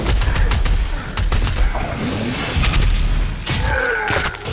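Gunfire in Doom Eternal blasts at Arachnotrons in dense, rapid volleys of booming shots and heavy thuds, loud and continuous with brief gaps, over chaotic game noise.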